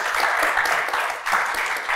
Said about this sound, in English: A round of applause for our panellists that we have here today.